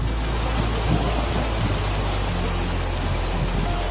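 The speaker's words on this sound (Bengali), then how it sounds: "এখন এবং যথেষ্ট জোরে বৃষ্টি হচ্ছে এখন" Heavy rain pours down in a dense, steady roar, with a low rumble underneath and no other sounds breaking through.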